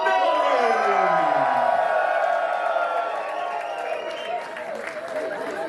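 A sold-out wrestling crowd at Nordic Elite Wrestling's WrestleFest 2024 fills the building with loud, sustained applause and cheering, a dense roar that eases slightly toward the end.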